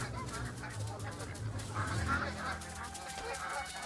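A few quiet, nasal duck quacks come in short bursts over a soft background hum.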